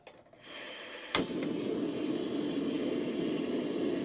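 Butane camping stove burner turned up to high, a steady close roaring hiss that starts after a faint click and ignition pop and holds evenly to the end, with no talking.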